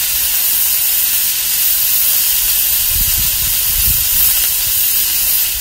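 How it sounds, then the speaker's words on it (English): Red onions hiss on a hot Arteflame griddle while making hickory smoked smash burgers, a loud, even steam-like sizzle with faint low rumbling knocks midway. "Now we're going to come on now and add our red onions."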